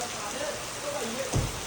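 Steady rain hissing across a broad band in Lahore, with a low thump near the end and faint voices underneath.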